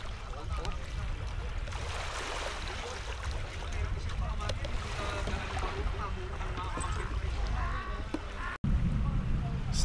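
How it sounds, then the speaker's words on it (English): A tour boat motors across the water off El Nido, Palawan, in the Philippines: a steady, loud low rumble with wind and splashing throughout, briefly cutting out near the end before resuming. "That's our boat right there."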